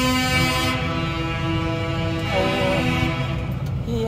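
Tractor horns blaring together in a farmers' street protest on Friedrichstraße in Berlin, loud sustained overlapping honks with shifting pitches, a dense continuous horn chorus without speech.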